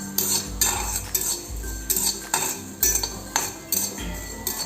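Coriander seeds roasting in a pan, stirred with a metal spoon: a steady run of close, sharp scraping clinks against the pan in an uneven rhythm, with no talk.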